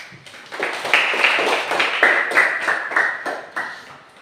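A group claps together in a steady rhythm, roughly eight quick beats, loud and close, with a faint tone running underneath.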